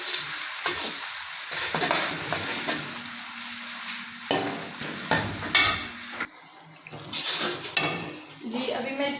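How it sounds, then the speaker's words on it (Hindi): Ginger-garlic paste fries and sizzles in a pan for a vegetable pulao while a spoon stirs and scrapes against the metal, giving a steady hiss broken by clinks and scrapes. "अब मैं इसमें डाल रही हूँ अदरक और लहसुन का पेस्ट। इसको अच्छी तरह हम जो है वो फ्राई करते हैं।"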